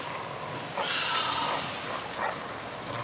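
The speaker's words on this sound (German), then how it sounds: "Holen Sie den Köter da raus." A dog barks a few times at medium distance, short sharp yaps spaced apart over a steady outdoor background noise.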